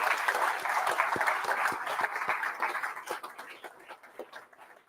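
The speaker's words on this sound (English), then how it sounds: "Give yourself a huge round of applause." Applause from an audience at a political party launch event, a dense round of clapping that gradually thins out into scattered claps.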